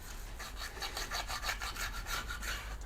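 Close, quiet scraping and rubbing comes from digging sawdust out of a carved channel in wood near a truss rod slot, in quick repeated strokes with a raspy, filing texture.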